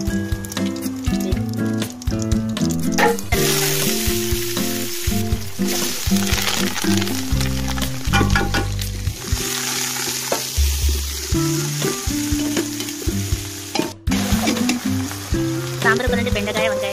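Cumin seeds, mustard seeds and bay leaves frying in hot oil for sambar, giving a steady, loud sizzle and crackle with stirring clatter throughout, fairly close.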